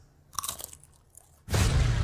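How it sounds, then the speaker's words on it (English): Crunching on Cheesy Grooves snack chips: a few sharp bites and chewing crunches up close, then a loud, dense burst of crunching at the end, with no voices. "Crunch! Cheesy grooves."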